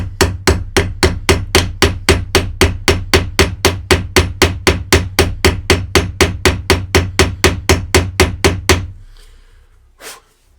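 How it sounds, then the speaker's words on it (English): A brass hammer taps a metal reloading press toolhead in a steady, rapid series of sharp ringing blows, loud and close, then stops, followed by one faint knock. "I'm using a brass hammer because I didn't want to mar it up too bad."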